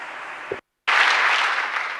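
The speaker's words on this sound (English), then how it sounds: "Give him an applause." An audience claps in a security conference hall. A short burst of applause is followed by a brief gap, then a dense, sustained wash of many hands clapping together, fairly loud and even.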